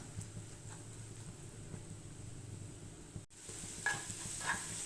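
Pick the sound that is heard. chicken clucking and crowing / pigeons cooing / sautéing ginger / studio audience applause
sautéing ginger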